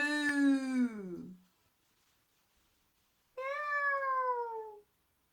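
A storyteller's voice imitates a cat with two long, sing-song meows separated by a short silence, the first swooping downward and the second slightly higher and flatter, close and clear.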